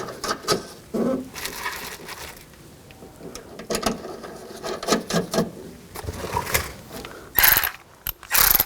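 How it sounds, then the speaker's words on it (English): Ratchet snugging down the nuts on a tail light of a 2003-06 Infiniti G35, heard as irregular bursts of mechanical clicking and short ratcheting runs, close and moderately loud. "snug down the bolts"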